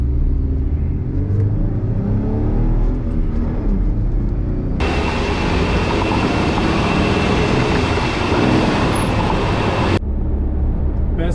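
A Jeep Wrangler JK with a Rubicon Express drive shaft kit cruises at highway speed, giving a loud, steady road and engine rumble with a stretch of harsher broadband wind and tire roar in the middle.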